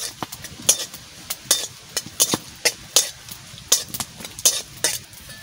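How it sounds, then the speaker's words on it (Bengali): Cashew nuts fry in ghee in a kadai, a soft sizzle under regular sharp scrapes and clicks of a spatula stirring against the pan, about two strokes a second, close and clear. "ঘি দিয়েই ভাজা করে নিচ্ছি"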